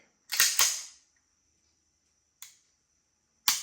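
Dry-fire trigger clicks on a Staccato XL pistol: two sharp, close clicks in quick succession, then two more single clicks spaced about a second apart, each clean and loud against near silence.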